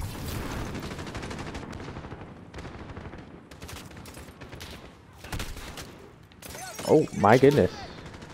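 Bursts of automatic gunfire in Modern Warfare, crackling through a busy battle soundscape, with an excited voice talking over it and a louder cluster of shots toward the end.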